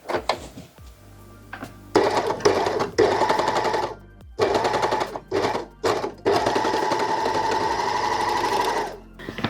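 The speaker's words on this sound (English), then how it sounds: "We have now overlocked the front armholes" An overlocker stitches and trims the front armholes of a bodysuit, its loud close whirring running in several bursts with short pauses between, ending in one long continuous run.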